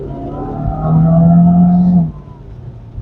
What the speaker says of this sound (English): if I plant my foot, the petrol engine will kick in